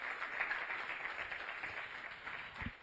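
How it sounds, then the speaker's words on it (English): A conference audience applauding, a dense steady patter of many hands clapping at moderate volume, with a few heavier thumps near the end. "I think Doctor deserves a bigger round of applause than that."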